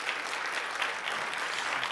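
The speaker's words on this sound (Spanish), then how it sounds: "Denle un aplauso al Señor." Church congregation applauding during a Spanish-language sermon, a steady, fairly close wash of hand claps lasting the whole short stretch with no talking over it.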